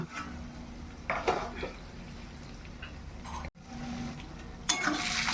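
Meat being stir-fried kosha-style in a pan gives a soft, steady sizzle with occasional scraping and clinks of a spoon against the pan, fairly quiet throughout.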